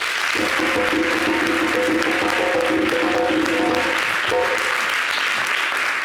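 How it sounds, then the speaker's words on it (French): A TV studio audience claps steadily in support, a dense, even wash of applause with a brief held tone underneath. "on va essayer d'applaudir pour lui donner toutes nos forces"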